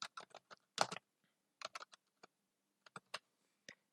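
Quiet, close keystrokes on a computer keyboard, a dozen or so taps in short irregular bursts with brief pauses between words, alone without any talk.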